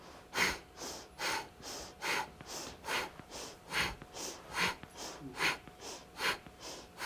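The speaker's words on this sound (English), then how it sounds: "the breathing is basically kind of a breath of fire" Rapid rhythmic breath-of-fire breathing during a yoga kriya class: about a dozen sharp, forceful nasal exhalations in a steady pulse, close and clear, with no talking.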